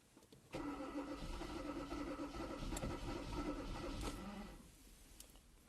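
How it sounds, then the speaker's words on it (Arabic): A 2014 Kia Cerato that will not start, its engine cranking steadily for several seconds with a continuous mechanical churn that never catches, then stopping. "نشوفوا مع تدوير المحرك."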